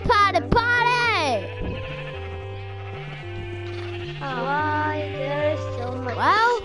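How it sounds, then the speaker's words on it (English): Sheep bleat in the Minecraft video game, several wavering baa calls heard close over a steady synthesized game music line, with excited voices talking over them. "Oh my god! Sheep!"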